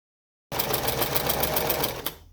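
Close and loud, a sewing machine starts abruptly and stitches a sleeve seam on a white school shirt in one fast, even burst before stopping.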